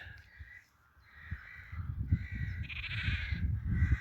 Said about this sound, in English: The rooks are being a bit noisy.